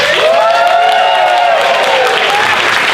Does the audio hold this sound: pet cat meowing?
no